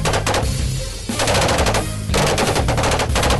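M4 5.56mm gunfire simulator firing at 800 rounds per minute, loud rapid automatic bursts separated by short pauses.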